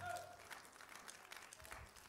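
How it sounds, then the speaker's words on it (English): A church congregation claps hands together at a sermon, a continuous wash of many overlapping claps with crowd noise, moderately loud throughout. "Clap your hands unto Jesus."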